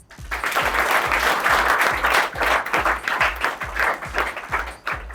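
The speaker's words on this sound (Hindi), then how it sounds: "एक बार और ताली बजा दो" An audience claps together in sustained applause, loud and dense, with rhythmic pulses running through it from start to finish.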